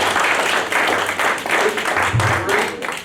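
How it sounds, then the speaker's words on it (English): An audience claps through a sustained, fairly loud round of applause after a life-story talk, with dense, steady clapping throughout. "Let's give them another big round of applause."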